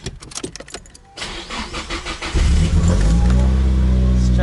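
An S13 car's starter cranks in rapid stuttering bursts, then the engine catches and roars into a loud, steady idle right beside the listener.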